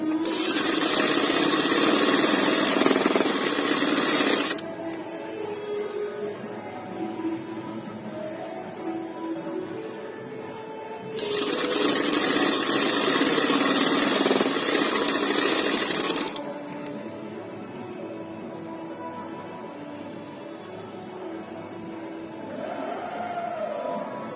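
A sewing machine stitches a folded hem on fabric for a poncho, running in two loud bursts of rapid whirring separated by quieter stretches of handling and faint background noise.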